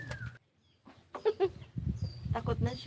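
A chicken clucks a few times close by in a garden, in short faint calls, with people talking over it.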